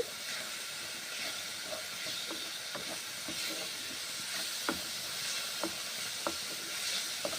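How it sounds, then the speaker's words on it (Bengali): Mixed spice masala frying for cauliflower curry, a steady hiss of sizzling oil with regular clicking taps of a spoon stirring the pan, close and quiet, no voices. "মিক্স মশলা দিচ্ছি। এক মিনিট নেড়ে ছেড়ে নিচ্ছি।"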